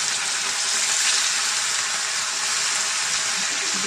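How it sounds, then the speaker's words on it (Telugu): Spiced fish pieces fry in a pan for a fish curry, producing a steady, dense, loud sizzle close by with no breaks. "ముందుగా చేప ముక్కలను ఫ్రై చేసుకోవాలంటండి."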